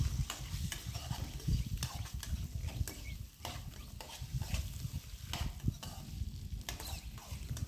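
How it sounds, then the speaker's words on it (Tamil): Two tomatoes sautéed in a pan for a dried-fish curry, stirred continuously with a rough, close scraping and a low bubbling sizzle that stays fairly quiet throughout. "நம்ம 2 தக்காளி சேர்த்து அதையும் நல்லா வதக்கிக்கலாம்"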